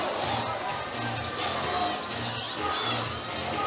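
A packed volleyball arena crowd at a Pepperdine versus UCLA tournament semifinal roars and cheers continuously, a dense, loud wash of voices and shouts with rising swells and no break.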